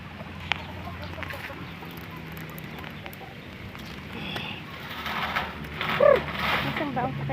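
Pet chickens cluck and chatter at feeding time, with a brief sharper call near the end. Talk and handling noise run throughout, and the birds sound moderately close.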